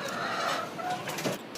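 Layer hens in a small-room farm cluck in a busy, continuous chatter, with overlapping short calls and no clear pauses, close and moderately loud throughout.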